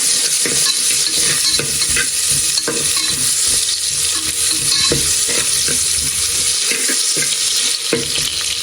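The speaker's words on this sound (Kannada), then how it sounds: "ಸ್ವಲ್ಪ ಫ್ರೈ ಆಗಲಿ." Onions frying loudly in a pan for palak egg biryani: a dense, constant hiss with soft stirring scrapes throughout, no voices.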